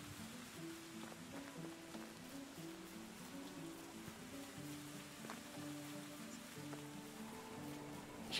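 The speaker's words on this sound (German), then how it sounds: "Also ich höre auf alle Fälle auf dem Kopfhörer in Regenrauschen." Steady, faint rain noise hisses continuously in the background of the Medieval Dynasty game, with a low melodic music line threading through it.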